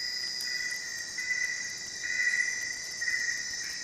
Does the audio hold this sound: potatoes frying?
no